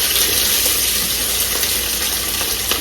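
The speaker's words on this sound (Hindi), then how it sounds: "अब ये प्याज थोड़े से भुनेंगे, ब्राउन होंगे।" Chopped onions frying in a pot with meat, black cardamom and bay leaf, giving a steady, close, dense sizzle that holds without pause.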